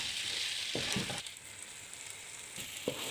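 Chana dal fries in masala with a steady, soft hiss of sizzling oil, broken by a few brief thuds and scrapes as the pan is stirred.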